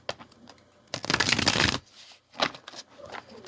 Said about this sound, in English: Now let's give the cards a shuffle.